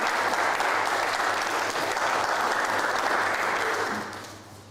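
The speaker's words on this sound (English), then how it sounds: "let's give a final applause for all of you, the graduates" Sustained applause from a graduation ceremony crowd honoring the new graduates, a dense steady clapping that holds loud for about four seconds before thinning and fading out.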